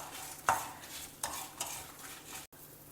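Dry red chillies fry with dals in oil, with a soft background sizzle broken by a few close scraping stirs of a spoon against the pan.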